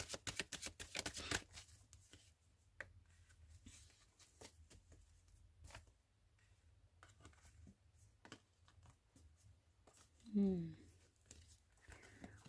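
Tarot cards riffle and flutter in a quick, dense burst at the start, then fainter scattered card slaps and taps follow, quiet and close, with a brief voice near the end.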